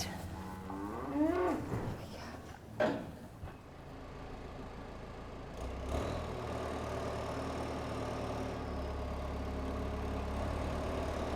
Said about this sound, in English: Here, the cattle are part of the natural ecosystem.